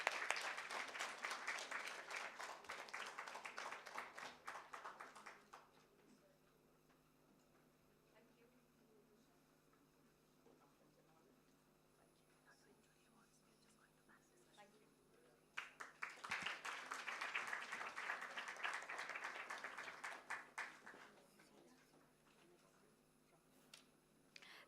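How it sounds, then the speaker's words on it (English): Audience applause at a live women's achievement event, a dense burst of clapping for about five seconds, a quiet lull, then a second full round of applause near the end. "Can we please have a round of applause for her too?"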